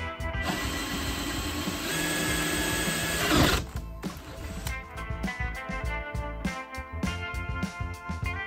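A fitting is tapped with pipe threads for an oil pressure sensor during an LS engine swap into a 1974 Corvette: close, loud mechanical grinding and whirring, then a run of rhythmic ratcheting clicks.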